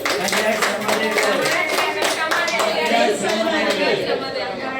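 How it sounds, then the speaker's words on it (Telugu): An audience at a home gathering claps to congratulate a contest winner, a dense burst of applause lasting several seconds, close and loud, with chatter and voices mixed in. "అందరూ ఒకసారి కంగ్రాట్స్ చెప్పండి గట్టిగా క్లాప్స్ పెట్టి"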